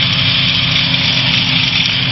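Engine of a Challenger II light aircraft droning steadily during a ground run-up, loud and close, with an even buzzing tone and no talking over it.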